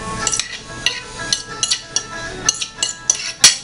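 Eggs tipped into a bowl of potato salad, with a run of light clinks and taps of a utensil against the bowl, several sharp ticks spaced irregularly, close and clear with no talk.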